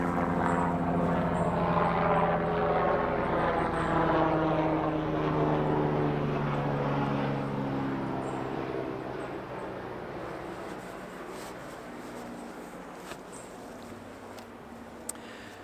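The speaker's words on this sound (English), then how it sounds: "That was definitely a helicopter." Loud helicopter flying overhead outdoors, a steady droning engine and rotor hum that slowly fades as it moves away.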